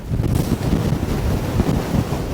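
Strong wind buffets the microphone on the Shetland coast, a steady loud roar with rumbling gusts and a faint wash of surf behind it, with no voices.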